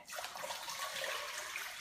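Strained bone broth pours steadily in a continuous hissing, splashing stream, close and fairly quiet, with no talking.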